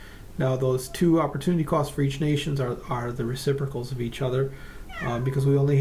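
A domestic cat meows repeatedly in drawn-out calls, close by and fairly loud, mixed in with a man lecturing over the top.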